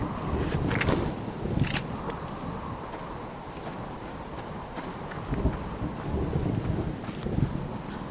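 Heavy rain falling with wind buffeting the microphone, a steady broadband wash with a few louder gusts or distant rumbles swelling and easing, no voices present.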